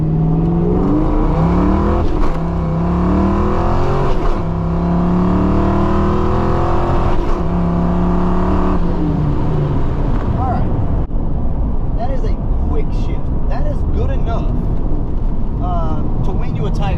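Foxbody Mustang with a T5 gearbox pulling from first and speed shifting: a loud, close engine revs up in rising sweeps, each cut by a quick shift before climbing again, then drops to a rougher lower drone.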